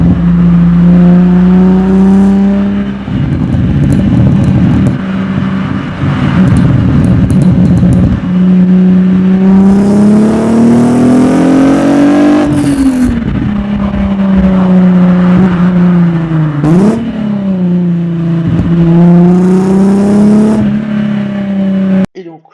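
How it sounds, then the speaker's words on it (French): An Alfa Romeo Busso V6 engine revs up and down repeatedly, a loud, smooth mechanical howl rising and falling in pitch, heard close by with no talking. "C'est pas un bruit d'échappement, c'est un bruit moteur. C'est le moteur qui fait du bruit, pas l'échappement."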